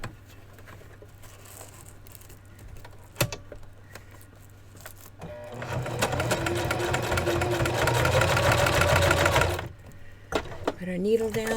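A sewing machine stitching a small fabric Barbie doll dress runs in a fast, steady mechanical chatter for about four seconds, preceded and followed by quiet handling clicks and a low hum, with faint talk nearby.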